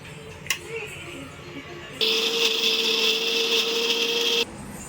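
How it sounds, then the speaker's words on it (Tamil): A mixer-grinder blends green chillies: a steady, loud whirring drone that kicks in partway through and runs for a couple of seconds before cutting off, with quieter kitchen noise before and after. "இப்போ வந்து பச்சை மிளகா வந்து நம்ம நல்லா வந்து அரைச்சி எடுத்துக்கலாம்"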